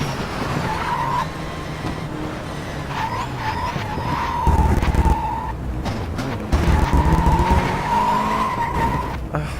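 A car in the racing game Race 07 skids and spins out, with long loud tire squeals rising and falling over a droning engine and crunchy bursts of scrubbing rubber.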